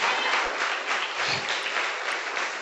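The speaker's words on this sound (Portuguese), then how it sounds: "Aplauda o Senhor Jesus nessa noite." A church congregation claps together in a dense, even wash of applause that stays steady and fairly loud for a few seconds, with no talking over it.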